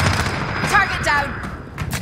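Gunfire in the Call of Duty Modern Warfare video game, a brief cluster of distant rapid shots and thuds amid a busy battle ambience.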